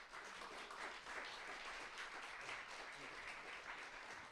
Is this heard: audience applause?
yes